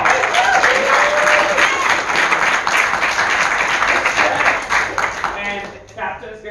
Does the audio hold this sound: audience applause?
yes